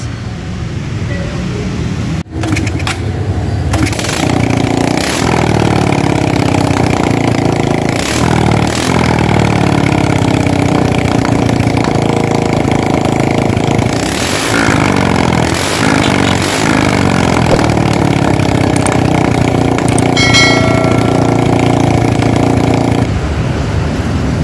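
A Honda XRM-125 motorcycle engine running after an overhaul with the exhaust pipe removed, a loud, close, steady idle with a few brief revs and mechanical clatter, and no talk.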